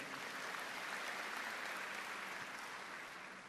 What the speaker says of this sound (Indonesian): Yang setuju berikan tepuk tangan yang meriah.